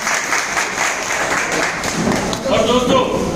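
An audience at a business meeting in a hotel gives sustained, dense applause that holds steady, with a few voices rising near the end.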